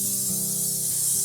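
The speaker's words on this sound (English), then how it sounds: "at home we use spray oil most of the time" Short, steady hiss of cooking oil sprayed from a spray can in a home kitchen, one continuous burst close to the source, with faint background hum.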